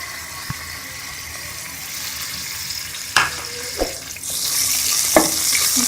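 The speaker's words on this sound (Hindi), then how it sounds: "थोड़ा सा घी डालेंगे। और इसके अंदर हम ये जीरा डाल देंगे।" Cumin seeds sizzle in hot ghee in a kadai, a steady hiss that swells louder in the second half, broken by a few sharp clicks and taps of a utensil; no one speaks.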